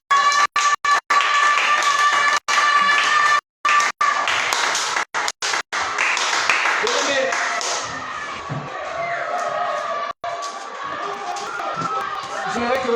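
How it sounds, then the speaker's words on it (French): A worship congregation in a church claps and cheers in acclamation, with loud bursts of clapping and crowd noise, sharply cut in places, then a sustained roar of voices and applause. "Nous allons adorer en acclamant le Seigneur des Seigneurs."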